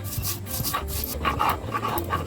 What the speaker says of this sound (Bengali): মা মশলাগুলো বেটে নিচ্ছে ভালো করে